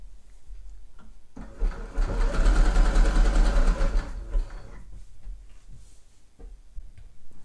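Sewing machine stitching a zigzag around a sweatshirt neckline, a steady fast mechanical whir that runs loud for about two and a half seconds in the middle, with quieter handling sounds before and after.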